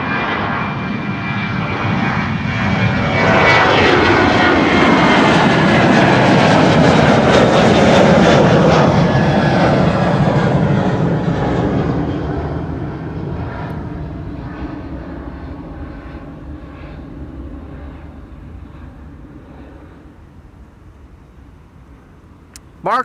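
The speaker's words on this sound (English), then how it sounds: "Unfortunately, it's going to take off from the wrong runway." A Boeing 737-900 cargo jet takes off from Schiphol, its engine roar swelling to a loud peak and then fading slowly into the distance as it climbs away.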